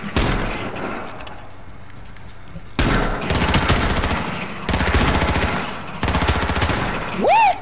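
Loud bursts of rapid gunshots in H1Z1, several clusters of quick repeated shots separated by pauses, followed by a rising whistle-like tone at the end.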